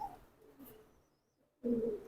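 A military-breed pigeon coos softly at close range, a low throaty call with a short pause before a louder burst; no speech.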